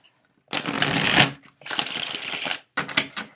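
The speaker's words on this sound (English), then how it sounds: "So I will shuffle till one card falls out" A deck of tarot cards is shuffled close up in three quick riffling bursts, each a crisp papery flutter with short pauses between them.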